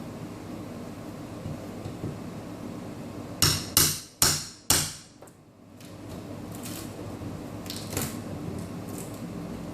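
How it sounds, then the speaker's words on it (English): Window trim pieces being pried off with a pry bar, giving four sharp cracking knocks in quick succession at close range, followed by a few fainter snaps, with no talking. "I use my pry bar. The first thing I want to do is take off these trim pieces on both sides."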